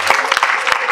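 Guests at a Rwandan wedding clap in a brief burst of scattered, uneven applause, with a voice talking over it.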